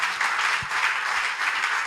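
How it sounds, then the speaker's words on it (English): Applause for developers at an open-source conference, Nostrica 2023: a moderately loud, continuous round of clapping from the audience that holds steady throughout. "So a round of applause for Tal, Vladstan, they're not here, and Kal"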